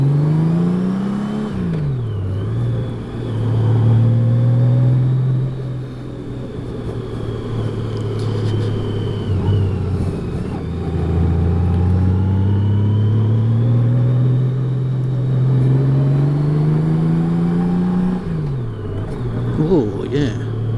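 A 2018 Honda Goldwing motorcycle rides a bumpy winding road near Ettalong Beach on the Central Coast, its close, steady engine drone rising and falling in pitch with throttle changes under constant wind rush.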